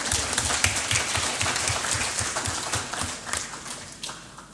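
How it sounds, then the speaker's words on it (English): Seminar audience applauding together, a steady wash of many hands clapping at moderate loudness, with no voices over it. "Let's give a big applause to this."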